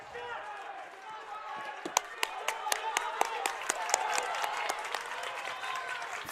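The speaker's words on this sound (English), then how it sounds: "Boone crowd bringing the energy here" Boone crowd at a varsity wrestling match builds into rhythmic clapping, with steady sharp claps and a murmur of cheering, while a commentator talks over it.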